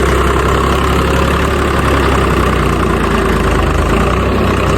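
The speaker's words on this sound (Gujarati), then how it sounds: "ટ્રેક્ટર હલવાઈ ગયું છે અમારું." A tractor engine idles on a farm field where the vehicle had been stuck, giving a loud, steady, unbroken low rumble with a dense mechanical drone throughout and no voices.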